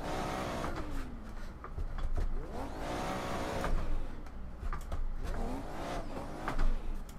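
A Nissan 180SX in Assetto Corsa revs and accelerates in repeated swelling pulls, the engine note climbing and dropping as it works close along a wall, loud and near with rough mechanical whir.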